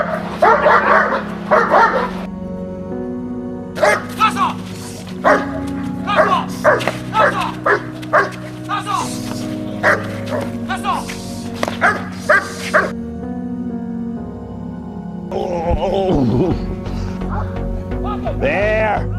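A dog barks in repeated sharp bursts during guard dog training, loud and close, with some whimpering yips between barks and a handler's voice talking at times.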